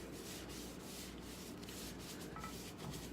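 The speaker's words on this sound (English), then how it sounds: "Let it absorb the olive oil as much as you can, and I'm going to rub this on top of our pan, as you can see, grilling pan." A paper towel soaked in olive oil is rubbed across a grilling pan, producing a constant close scrubbing, rasping friction with a rough, even texture and no pauses.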